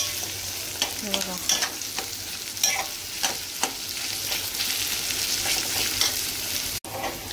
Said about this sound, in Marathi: कांदा मिरची शिजवायची आपल्याला.